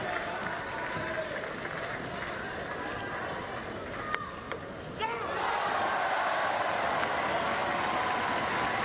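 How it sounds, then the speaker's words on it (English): Indoor crowd at a para table tennis match cheering and applauding, a dense continuous roar of claps and voices that swells louder near the end, with commentary-like talk underneath. "Each point, the crowd gets louder and louder."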